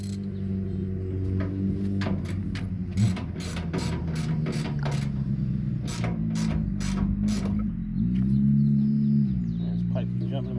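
A fitting is tightened during installation of a Maytag Performa washer that has no spin and a burning smell: a loud, close ratcheting clatter in rapid bursts, with speech over it.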